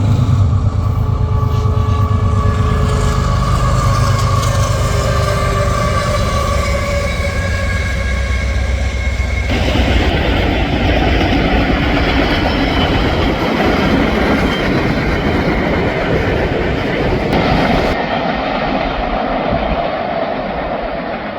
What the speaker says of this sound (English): a CSX freight train which had been stopped near Rochester started moving eastwards.